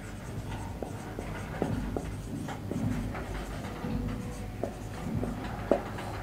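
Chalk or marker writing on a board, a steady run of short scratchy strokes and taps at close range during a grammar lesson.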